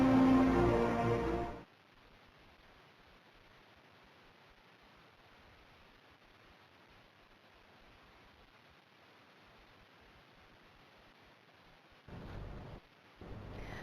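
Steady rain with low thunder rumbling underneath, in Saurashtra, Gujarat, in early October, when the rain is just starting. A louder, busier burst opens the sound before it settles into an even wash, with brief swells near the end.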